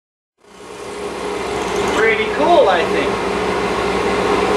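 A DIY CNC router plunge-drills with its dust collector running: it starts up and settles into a loud steady whir, with a rising mechanical whine cutting in midway, and someone speaking over it.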